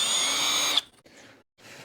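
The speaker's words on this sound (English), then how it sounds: "So I'm going to countersink them with 16, I think." Power drill countersinking screw holes in a guitar body, with a steady high whine for just under a second that cuts off abruptly, followed by faint scraping.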